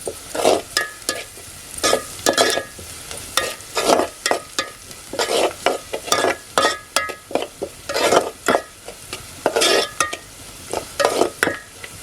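Leafy greens with turmeric and salt are sautéed in a pan over a wood-fired clay stove, the spatula scraping and stirring in a steady rhythm of repeated bursts above a low, constant sizzle.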